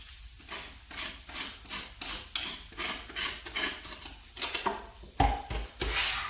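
A kitchen scraper drags leftover vegetable skin across a board in steady repeated scraping strokes, close and rasping, ending with a few heavier knocks while cooking a curry.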